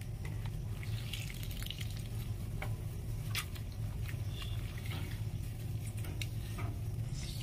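Pol chatu mushrooms being washed by hand in water under a running tap, with a steady low rush of flowing water, scattered drips and splashes, and no voices.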